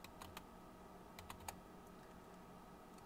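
Typing on a computer keyboard during WinUAE Amiga emulator setup: a few quick, faint key taps in short clusters over steady background hiss, with no talking.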